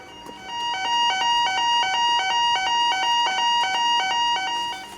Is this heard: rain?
no